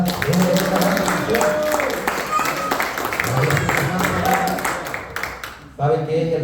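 A church congregation bursts into applause during a worship service, a thick continuous clatter of many hands with voices and music woven underneath, tapering off near the end.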